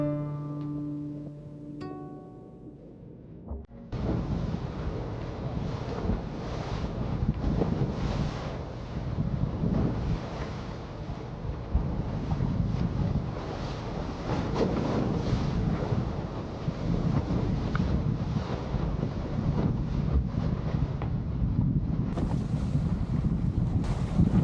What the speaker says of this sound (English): As we started out, it did get a little bit choppy. You never really see how high the waves are on these videos, but it was a bit bouncy